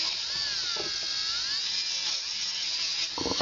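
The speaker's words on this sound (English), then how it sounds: "use my pumice wheel" A pumice wheel on a rotary tool polishes a four-claw prong setting with a high, steady whine. Pitch wavers slightly as pressure changes, with soft contact scuffs close by.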